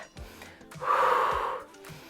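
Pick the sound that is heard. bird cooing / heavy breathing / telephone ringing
heavy breathing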